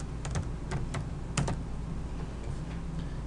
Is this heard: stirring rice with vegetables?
no